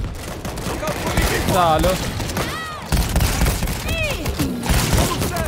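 Rapid automatic gunfire rattles in dense bursts in World War Z: Aftermath during a zombie horde fight, loud and continuous, with someone talking excitedly over it.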